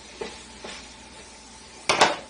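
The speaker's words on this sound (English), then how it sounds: "I'm just going to go ahead and start browning this sausage." Frozen sausage goes into a frying pan to brown, giving a faint sizzle with a few soft stirs and then a louder scraping clatter of utensil against pan near the end, close up and without talk.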